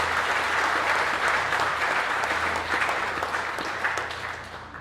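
Audience applause for the installing team at a Masonic lodge installation ceremony: a steady, full round of clapping that gradually tapers off toward the end.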